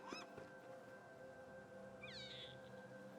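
A cat in Don't Starve Together meows twice, a short high call at the start and a longer rising-falling meow a couple of seconds later, both fairly quiet over a steady hum of game ambience.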